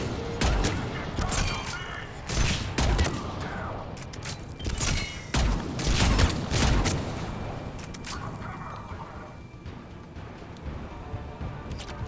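Sniper rifle fire in the video game Mass Effect 3 during a Tuchanka battle, heard as loud repeated gunshots and combat noise that runs steadily through a dense stretch and then eases toward the end.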